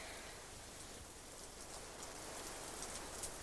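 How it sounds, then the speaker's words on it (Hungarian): Heavy rain pours down steadily, a dense, even hiss of drops with no voices, quite soft in level. "szakad az eső."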